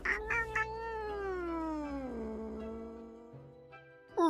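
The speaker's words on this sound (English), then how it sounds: "The cat mutters an annoyed meow through her snores." A sleepy cat in Death & Taxes lets out one long, drawn-out annoyed meow that slides downward in pitch, close and clear, with brief soft sounds at the start and end.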